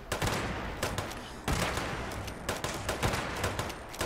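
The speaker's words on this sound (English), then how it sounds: "I think that thing is shooting with a saw blade right now." A blind robot in the Fallout game fires saw blades in rapid, steady volleys, a continuous rattling barrage of sharp repeated impacts at moderate loudness with no talk.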